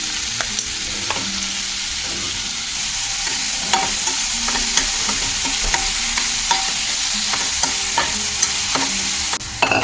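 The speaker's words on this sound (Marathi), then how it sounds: "हे थोडं भाजल्यानंतर आपण याच्यात आता कांदा टाकणार आहोत." Very finely chopped onion frying in a pan for misal, a continuous close sizzle broken by regular spatula scrapes and taps, with no talking.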